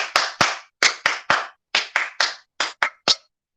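Sharp, close hand claps in a rhythmic pattern, struck in short groups of two or three with brief pauses, dry and distinct during a classroom management workshop.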